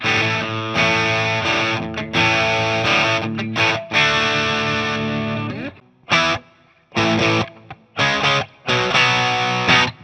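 Electric guitar through a JHS AT+ pedal's clean boost, playing loud, sustained chords in a boosted, slightly overdriven tone, with a few abrupt stops and short choppy strums near the end.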